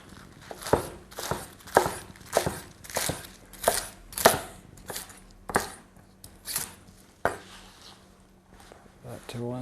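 A knife chops bok choy on a cutting board in a home kitchen, a dozen or so sharp, evenly spaced knocks close up, slowing and trailing off toward the end.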